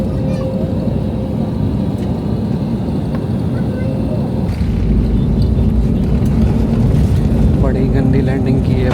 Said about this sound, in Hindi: बड़ी गंदी लैंडिंग की है भाई, ऐसे जहाज़ को ज़ोर से ला के ज़मीन पर मारा है जवान ने।